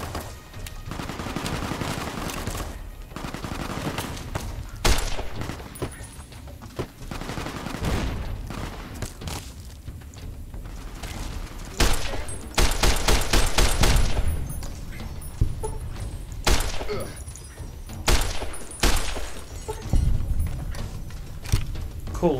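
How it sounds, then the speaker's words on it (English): Video game gunfire in Fallout: New Vegas around the town of Nipton, with repeated bursts and single shots coming from several directions, the loudest volleys clustering midway and recurring in sharp clusters toward the end. "Of course I'm getting shot from both sides."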